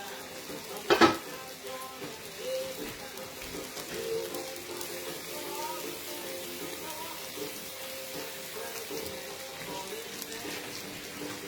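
Food sizzles in a pan with one sharp clank of cookware near the start, followed by steady soft frying and occasional stirring noises, close and moderately quiet with no talking.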